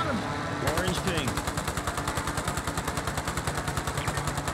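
Rapid automatic gunfire in Warzone, a steady fast burst of shots running for several seconds, loud and close, with a low engine-like rumble underneath.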